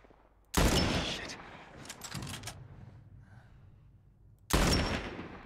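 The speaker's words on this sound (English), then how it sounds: "Single shot with the high caliber." Gunfire in The Last of Us video game: two sharp, loud high-caliber shots about four seconds apart, each with a ringing decay, with shuffling and clattering between them.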